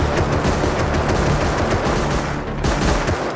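Dense, continuous gunfire in the survival video game Rust, loud and sustained throughout with overlapping rapid shots and brief dips, no voices.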